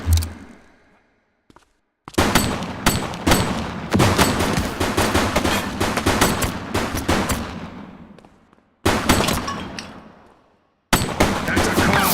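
Gunfire in The Precinct video game, with dense bursts of rapid shots over several seconds, broken by brief pauses, loud and close.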